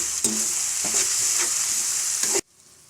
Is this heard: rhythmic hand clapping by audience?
no